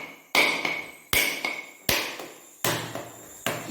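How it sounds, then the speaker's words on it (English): A hammer strikes a coconut held in one hand to crack it open. Five sharp, separate knocks land about a second apart, each ringing briefly before fading, close and fairly loud. "you hold it firmly in your left hand, and with the right hand and the hammer"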